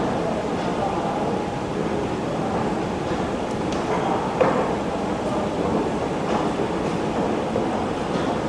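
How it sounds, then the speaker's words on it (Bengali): A metro train in Guangzhou, China produces a steady broadband rumble and rushing hiss with faint clanks, continuous and fairly loud throughout. "এই যে এটা মেট্রো রেল।"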